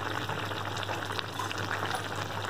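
Fish curry gravy for a Bengali tangra fish jhol with onion stalks and eggplant simmers in a pot, giving a steady close bubbling hiss with a constant low hum, no voices.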